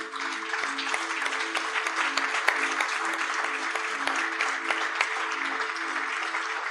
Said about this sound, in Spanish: ¿le parece si brindamos un fuerte aplauso a nuestro Dios?